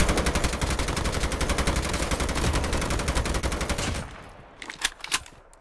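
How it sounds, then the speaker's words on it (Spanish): Rapid automatic gunfire in a video game rattles in a dense, fast burst lasting several seconds, then breaks off into a few scattered, sharper single shots, loud and close with no speech. "hay disparos del otro lado"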